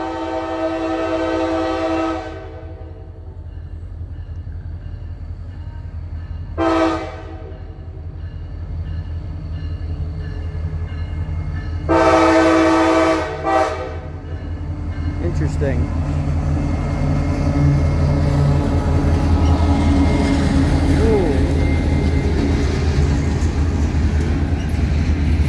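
A solo CSX EMD SD40-3 diesel locomotive leads freight train D786 past, exiting the Old Main Line near Harpers Ferry long hood forward: a steady rumbling roll with several loud horn blasts, and a person talking over it.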